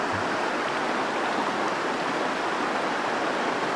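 River water rushes over a knee-deep ford near Newton Tors, a constant broadband hiss of flowing water that stays even and unbroken throughout.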